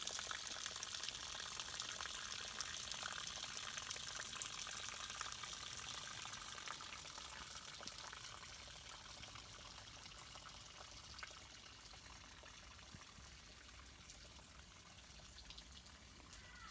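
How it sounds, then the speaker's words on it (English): Faint, steady trickling spring water runs continuously into a pond in a grotto in the Blue Mountains, Australia, a soft gentle flow with no voices. "And see how all the water collects into that frog pond."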